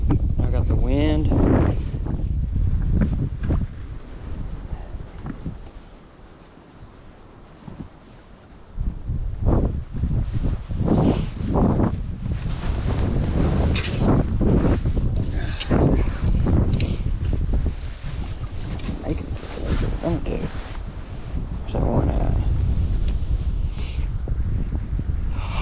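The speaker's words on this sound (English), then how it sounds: "Wind's gonna mess me up." Wind blowing across open water during spring pre-spawn bass fishing from a boat, a steady roaring buffet on the microphone with gusts and a brief lull, while someone talks over it.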